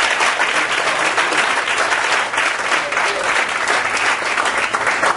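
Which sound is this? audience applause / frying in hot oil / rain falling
audience applause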